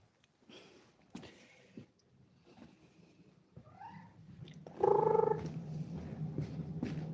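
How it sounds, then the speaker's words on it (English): A cat meows a few times, starting with soft chirps and building to a loud, close, drawn-out meow, with quieter rumbling sounds between. "'Cause that's a lot of meowing you're doing right now"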